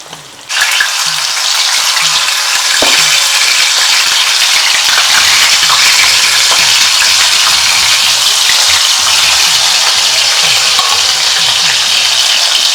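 Loud, dense crackling and sizzling of curry leaves frying in hot oil, starting abruptly and continuing steadily at close range.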